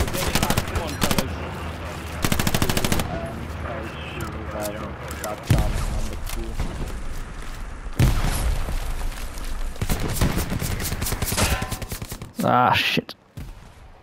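Gunfire in the World War II shooter Hell Let Loose: bursts of machine-gun and rifle fire, some close and loud, others more distant, with booms mixed in, while players talk over the shooting.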